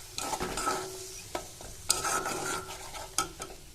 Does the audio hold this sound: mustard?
yes